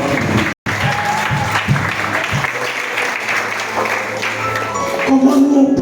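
Men in a village gathering applauding and cheering for the women, loud steady clapping mixed with crowd voices throughout, briefly cut off near the start.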